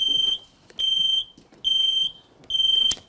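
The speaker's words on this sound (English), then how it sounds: "Beeping eggs." Beeping Easter eggs made for visually impaired children give four evenly spaced, loud, high electronic beeps, each about half a second long, with quiet gaps between them and no voices.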